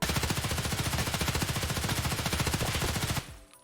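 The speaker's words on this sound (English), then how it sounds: "Do not be afraid to hip fire in Tarkov, guys. Hip fire in this game is really accurate." Sustained rapid automatic hip-fire from a rifle in Escape from Tarkov, a dense unbroken stream of shots lasting about three seconds, loud and close, then cutting off abruptly into quiet room tone.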